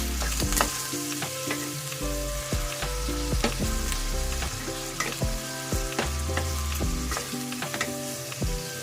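Squid adobo with squid ink sizzles and fries in a frying pan while a utensil stirs it, with steady frying noise and scattered scraping clicks throughout, close and fairly loud, no talking.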